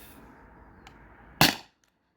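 A stock Beeman BP50 air pistol fires a single sharp crack through a chronograph, close and loud, then cuts off quickly to near silence.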